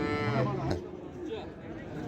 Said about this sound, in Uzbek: Katta sigir.